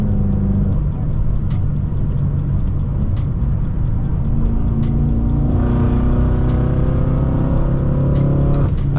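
A Stage 2 BMW M6 tuned to 800 horsepower driven hard, its engine roaring loud and close with rising revs and gear changes heard from inside the car.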